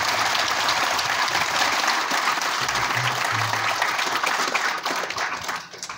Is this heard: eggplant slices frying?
no